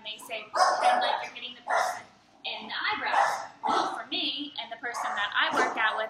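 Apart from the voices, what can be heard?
dogs barking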